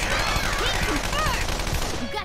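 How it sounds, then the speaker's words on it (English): Rapid gunfire from a battle attack in Persona 5 Royal crackles in a dense, continuous burst, with voiced game dialogue and effects layered over it. "It's weak against gunfire."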